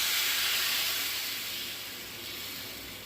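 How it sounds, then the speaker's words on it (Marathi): Besan chilla batter poured onto a hot oiled griddle, giving a loud continuous broadband sizzle that fades slightly as it settles, with no talk. "आता आपण हे जे पीठ तयार केले ते ह्यावर टाकायचं आहे आपल्याला"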